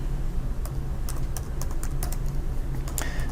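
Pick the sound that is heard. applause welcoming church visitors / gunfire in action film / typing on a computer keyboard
typing on a computer keyboard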